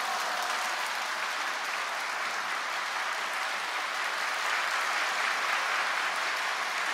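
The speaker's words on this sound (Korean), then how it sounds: "우리 이영훈 목사님 이제 등단하실 때 우리 큰 박수와 할렐루야로 우리 목사님 맞이합니다." A church congregation at a dawn prayer service at Yoido Full Gospel Church applauds to welcome the pastor, a dense, steady wash of many hands clapping at an even, loud level throughout without any speech.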